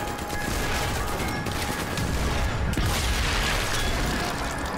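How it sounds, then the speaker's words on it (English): Loud, continuous barrage of gunfire and explosions in the Sniper Elite 4 survival mode, a dense wash of blasts with no speech over it. "There's a bazooka back there for you, Logan"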